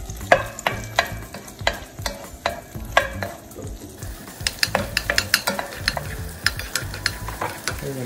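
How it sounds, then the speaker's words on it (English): Mushrooms sauté in melted butter in a pan, with steady sizzling and a run of sharp, rhythmic stirring clacks of a utensil against the pan, close and fairly loud throughout. "Now I'm going to add in the mushroom. So we're going to saute the mushroom here."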